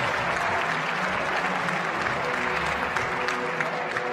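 A crowd applauds steadily and loudly at a youth archery championship final held indoors at the Vendéspace arena, with dense continuous clapping throughout and faint voices underneath.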